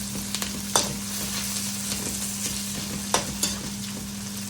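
Rampe, curry leaves and green chillies frying in oil for Sri Lankan pasta, a steady close sizzle with a constant hum beneath and a few sharp spoon clicks against the pan.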